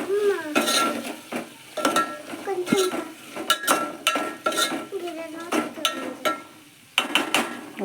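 A spoon scrapes and clinks around a pan as curry with turmeric is stirred, irregular metallic taps and scrapes up close, with a few quiet vocal sounds between them.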